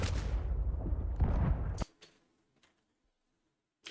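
A sniper rifle shot in a video game: a loud blast with rumbling tail that cuts off sharply, followed by near silence, a small click and a faint later crack.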